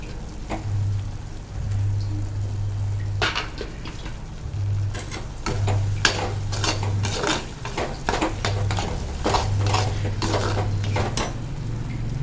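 Chili powder sautéing in oil in a clay pot for fish kulambu: continuous low sizzling under repeated sharp scraping and clinking of a spoon against the pot, growing busier toward the end, close by.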